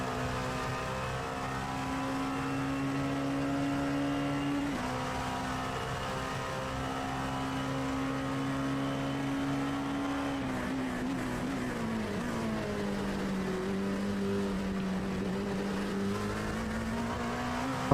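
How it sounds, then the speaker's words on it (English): An LMP2 race car onboard in iRacing at Road Atlanta, the engine droning steadily at high revs and then dropping in pitch as it shifts and rises again, with no talking. "On board now with one of your LMP2 machines, working their way back onto the front straightaway."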